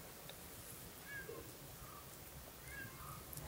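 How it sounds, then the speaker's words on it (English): A cat meows softly a couple of times, faint and somewhat distant, over a steady background hiss in a quiet room. "The cat comes and visits us always in the teachings and shares her experience as well."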